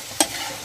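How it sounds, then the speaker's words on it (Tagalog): Beef tapa is stirred in a pan as its fat renders out, giving one quick scrape over a steady, soft sizzle of frying meat. "Haluin natin ang haluin hanggang po yung mantika ay humiwalay dun sa kanyang karne."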